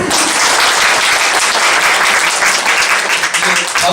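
An audience at a landscape architecture lecture at a university claps together, a loud, dense burst of applause that stays steady for a few seconds with a faint murmur of voices underneath.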